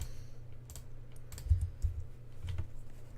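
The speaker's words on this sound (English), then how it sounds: "I keep misclicking things on the keyboard, and I just click T." Computer keyboard keys clicking during gameplay, a loose series of quick taps and a few heavier presses with soft low thumps, close up and alone with no talking.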